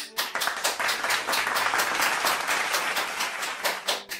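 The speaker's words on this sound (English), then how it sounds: "A round of applause for this boy." A round of applause plays as a steady wash of many hands clapping, fairly loud and continuous, with no voice over it.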